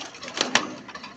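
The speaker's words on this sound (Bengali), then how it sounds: "রাজা না, এটা পায়রা, পায়রা একলা" A single pigeon gives a short, soft coo, with two brief throaty pulses close together against quiet surroundings.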